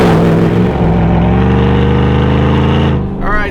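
Supercharged 2018 GMC Denali with the HPE650 package accelerating on the road, a loud, close, steady engine drone with a rising whine that builds for about three seconds and then eases off.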